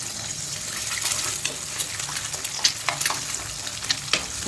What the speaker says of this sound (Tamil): இப்போ ஒரே ஒரு எக் வந்து நம்ம இதில் ஃப்ரை பண்ண போகிறோம்